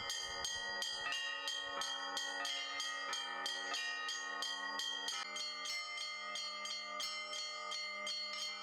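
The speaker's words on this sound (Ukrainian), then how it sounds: "Хлопці вибивають передзвін" A peal of church bells rings continuously at a Ukrainian bell-ringing festival, many strikes in quick, overlapping succession with bright, sustained metallic tones, loud and close.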